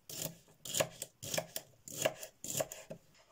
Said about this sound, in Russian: Помытые и очищенные от семечек перчики я нарезаю вот такими полосочками.